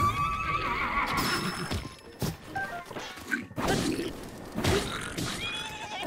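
A horse in Zelda: Breath of the Wild neighs and whinnies loudly amid clip-clopping hooves and sharp thwacking impacts, with the sounds overlapping fairly close.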